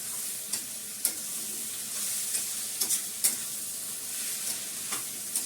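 Food fries and sizzles in a pan with oil as it is stirred, a constant hiss punctuated by sharp scraping taps of the spoon at irregular intervals, close and fairly quiet.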